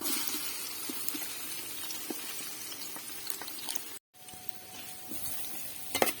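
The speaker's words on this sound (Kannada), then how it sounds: "ಸ್ವಲ್ಪ ಎಣ್ಣೆ ಹಾಕ್ತಾ ಇದ್ದೇನೆ ಫ್ರೈ ಮಾಡಬೇಕು ಆಗ ಕಟ್ ಮಾಡಿದಂತಹ ನೀರುಳ್ಳಿಯನ್ನು ಹಾಕ್ತಾ ಇದ್ದೇನೆ" Cut onions frying in oil in a village kitchen for kalthappa, a steady crackling sizzle with occasional stirring scrapes and small pops, close and fairly quiet, briefly dropping out before resuming.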